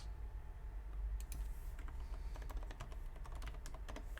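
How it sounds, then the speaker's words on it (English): Typing test tapped out on an HHKB Studio keyboard: a steady stream of quick, close keystroke clicks that picks up from about one second in, with a low background hum underneath and no speech. "pull up a typing test thing"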